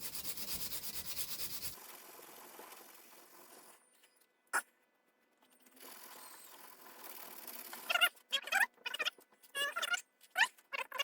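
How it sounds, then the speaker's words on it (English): Sandpaper rubs against a knife handle in scratchy bursts, quiet at first, then a run of quick, uneven strokes with brief pauses between them. "just me rubbing some sandpaper on the handle."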